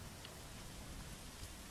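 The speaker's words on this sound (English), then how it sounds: "it's raining." Steady, faint rain patters evenly throughout a video game trailer shown at Sony's E3 2018 presentation, a soft continuous wash with no other sounds.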